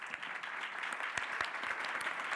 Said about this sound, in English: If you can join me to give an applause to the panelists.